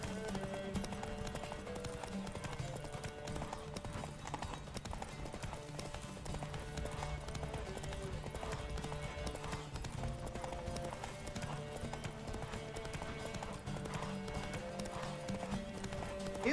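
Roach the horse gallops in The Witcher 3: Wild Hunt, its hooves pounding in a steady, continuous clip-clop rhythm that runs the whole time beneath constant background music.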